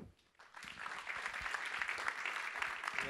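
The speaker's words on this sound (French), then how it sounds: "Je vous demande d'applaudir Paul Alarcon, le CEO et cofondateur de User." Applause from an audience starts after a brief quiet moment and continues as steady, dense clapping throughout.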